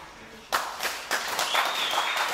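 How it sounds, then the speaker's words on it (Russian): A wrestling crowd at a GCW show, during a Belarus heavyweight title match, breaks into applause and cheering. It starts abruptly and swells into a steady, fairly loud roar of clapping with a few sharper surges, and voices are mixed in. "получают овации от восторженных зрителей"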